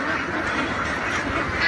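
A flock of ducks on a large commercial duck farm quacks continuously, many overlapping calls forming a dense, steady chorus.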